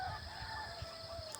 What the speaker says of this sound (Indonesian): kedengaran ayam banyak ya